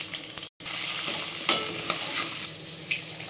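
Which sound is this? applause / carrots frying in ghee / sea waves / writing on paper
carrots frying in ghee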